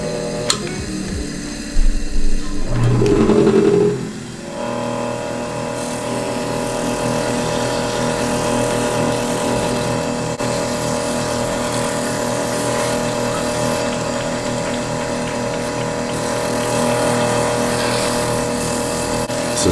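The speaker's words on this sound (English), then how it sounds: "So now we are ready to burnish." A TandyPro burnishing machine runs with a continuous steady mechanical hum and whir after a brief clatter of handling at the start, holding an even level for the rest of the stretch without talk.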